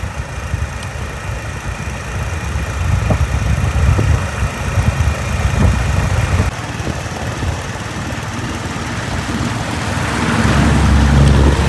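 A motorcycle engine starts and idles close by, a continuous throaty chug that holds steady and grows louder and rougher toward the end, with no talking.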